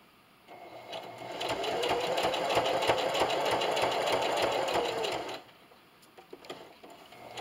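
A sewing machine stitches a quilt-as-you-go table runner in one continuous whirring run of rapid needle strokes lasting about five seconds, then stops, followed by a few faint clicks.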